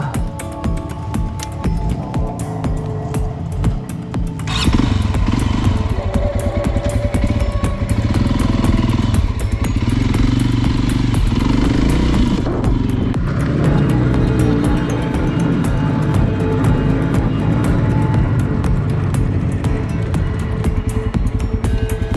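A Loncin LX 300 motorcycle on an adventure ride, its engine droning loud and close, then rising sharply in revs about five seconds in and holding a strong, steady roar with rough shifts in pitch.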